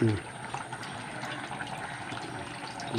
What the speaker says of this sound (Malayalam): ഒരു നെല്ലിക്ക വലിപ്പ നാരങ്ങ വലിപ്പത്ത് പുളി എടുത്തിട്ട് വേണ്ടത് ഒഴിക്കാട്ടോ